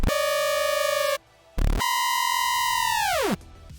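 A bright, harmonically rich screech synth patch built in Xfer Serum plays two sustained notes, the first cut off abruptly after a burst of noise, the second sliding sharply downward in pitch before stopping.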